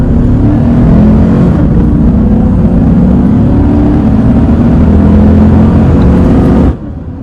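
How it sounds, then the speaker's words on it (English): A 2015 Chevrolet Silverado pickup with a swapped transmission accelerates hard with traction control off, its loud engine drone rising steadily and dipping at firm shift points before cutting off sharply near the end. "I'm gonna shut off traction control so that you guys can hear the shift points"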